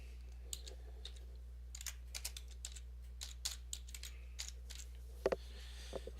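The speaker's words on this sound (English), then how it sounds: "to enter a comment, you just type in here" Typing on a computer keyboard while entering a comment, a quiet run of irregular key clicks over a steady low hum, with a couple of sharper taps near the end.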